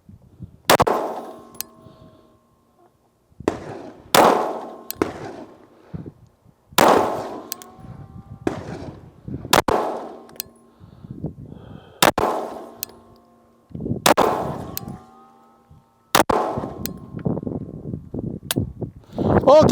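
Shots from a Derya DY9 pistol ring out in a string of sharp, loud reports with metallic clangs and short reverberant decays, fired in quick pairs and clusters at close range.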